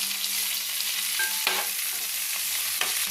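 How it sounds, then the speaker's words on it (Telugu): Onions frying in a kadai for mutton biryani, a close, steady hissing sizzle with a few sharp scrapes and clinks of stirring, no voices. "ఆనియన్స్ ఫ్రై అయిపోయినాయి."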